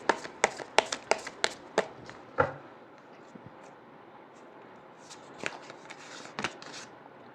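Tarot cards are shuffled by hand in a quiet room: a quick run of crisp, close slaps and riffles, then softer, sparser shuffles and taps.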